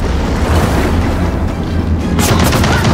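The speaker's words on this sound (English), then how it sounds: "Machine gun nest." Gears of War 4 machine gun nest firing, a loud sustained roar of gunfire and booms, with a sharper burst near the end.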